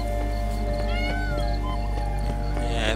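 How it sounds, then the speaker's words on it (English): A cat meows in The Witcher 3: Blood and Wine, a few short rising cries heard over a steady game background hum. "That may have been a cat."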